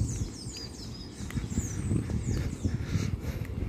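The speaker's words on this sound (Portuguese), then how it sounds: "Aqui é a natureza, somzinho dos passarinhos" Birds chirp and tweet high above a busy low rumble outdoors, calls repeating irregularly throughout.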